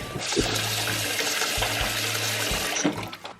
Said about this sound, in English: So fill your sink with some cool water.